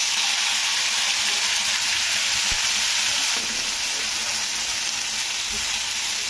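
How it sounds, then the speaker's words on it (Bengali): Dried red chili, a bay leaf and cumin seeds sizzle in hot oil in a pan, a steady, dense crackling hiss that stays loud and close with no talk. "আমি একটা শুকনো লঙ্কা আর তেজপাতাটা দিয়ে দিলাম, আর দিয়ে দিলাম একটু জিরে ফোড়ন"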